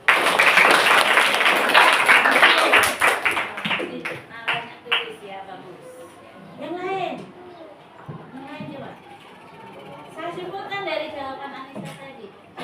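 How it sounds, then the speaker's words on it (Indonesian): A classroom of students claps together for a classmate, a loud burst of dense clapping for about three seconds that fades out, followed by a teacher speaking. "Kita tepuk tangan yang meriah untuk Anissa."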